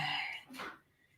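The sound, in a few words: throat clearing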